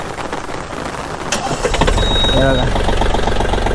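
A Mahindra OJA tractor engine cranks and catches about a third of the way in, then settles into a steady low idle, with someone speaking briefly over it.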